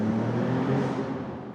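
Maserati MCPura V6 supercar engine revving during a manual downshift, a steady loud low drone with a slight rise and fall heard from inside the cabin.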